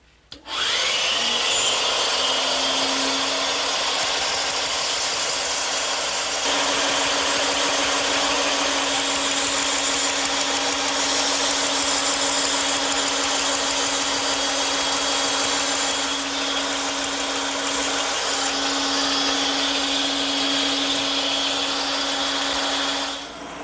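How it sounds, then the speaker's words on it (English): A bandsaw cuts a wooden column profile, giving a loud, steady, close whine with continuous rasping of blade through wood for over twenty seconds, with no talk. "now I just have to take that over to my bandsaw and cut it out."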